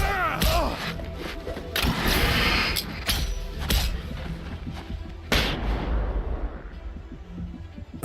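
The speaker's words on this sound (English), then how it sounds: "Yeah, that's a flashbang." A flashbang grenade detonates in the PC game Alan Wake, giving a sharp, loud blast with a ringing, crackling tail amid dense game noise, followed by scattered thuds and bangs.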